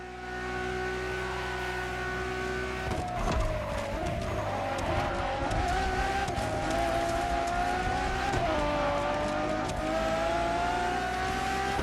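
Ferrari Enzo supercar driven in The Crew Motorfest racing game, its engine holding a loud, steady, sustained drone with rising and falling pitch as it accelerates, with tire and road noise beneath.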